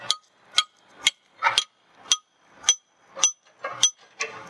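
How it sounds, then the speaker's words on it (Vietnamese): A metal L-shaped tool strikes a pin on the bucket teeth of a Komatsu PC50-2E excavator, giving nine sharp, evenly spaced clanking blows, close and loud with no talk. "Đây mình sẽ sử dụng cái L này để mình đóng ra nhé."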